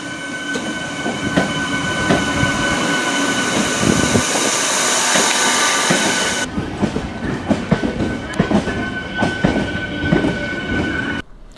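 An electric MEMU passenger train on the Alappuzha route rumbles loudly along the rails with steady clickety-clack, the sound shifting partway through as it keeps running, then cutting off abruptly.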